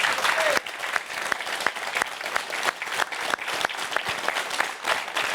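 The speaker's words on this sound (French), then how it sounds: "On peut les applaudir" An audience at a Corsican festive event applauds steadily for several seconds, a dense wash of clapping with a few sharper individual claps standing out, fairly close and loud throughout.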